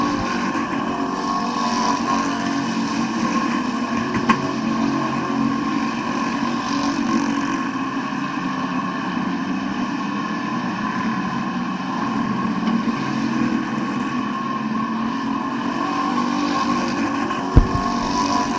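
Street stock race cars roaring around a dirt speedway track in a feature race, a continuous droning engine rumble heard from a distance, steady and unbroken with a faint thump late on.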